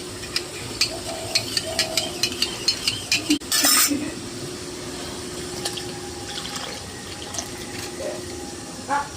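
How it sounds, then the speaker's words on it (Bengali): Water pours and splashes into a pan of curry for a yogurt and pointed gourd dish, followed by light clinks and scraping as the mixture is stirred, with a steady hum underneath. "এর সঙ্গে একসঙ্গে জল দিয়ে মিশিয়ে দিয়ে দিই"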